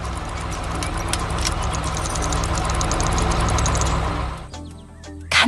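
Animated excavator and bulldozer engines run together while shaping a pond, a steady mid-pitched diesel drone with knocking idle that holds for about four seconds, then drops away to quieter clatter.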